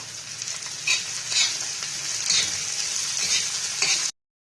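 Chopped onion frying in oil in a pan with a pinch of salt, giving a steady, loud, close sizzle with a few stirring scrapes before it cuts off abruptly.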